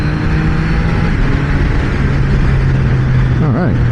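A Triumph Trident 660 three-cylinder motorcycle pulls hard through the gears on a frontage road, its engine droning steadily loud and close with wind noise, pitch climbing near the end as it shifts up via the quick shifter.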